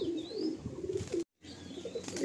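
Tournament racing pigeons coo inside a loft, a close, continuous layer of low burbling calls with thin higher chirps above, cut by a short silent gap before the cooing picks up again.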